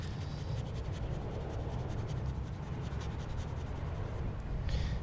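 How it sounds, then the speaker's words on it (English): Leather archery bracer being buffed to lift excess dye from its surface, a soft close rubbing and scratching that stays quiet and continuous throughout. "I'm just buffing off any excess dye that is sitting on top"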